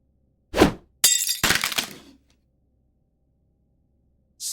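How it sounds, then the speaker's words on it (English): A wooden picture frame crashes to the floor, with a sharp crack followed by a second splintering, clattering impact that trails off. A quieter start of another hit comes at the very end. "A picture frame ripped from the wall behind him."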